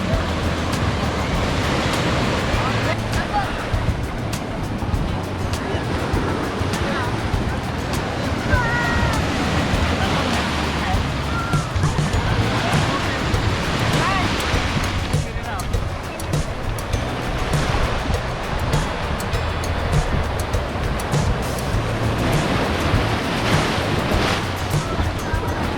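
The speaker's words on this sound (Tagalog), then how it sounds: "Lakas ng alon." Strong ocean surf breaks steadily on white-sand Cabongaoan Beach in Pangasinan, a continuous loud roar of crashing waves throughout, with faint voices occasionally mixed in.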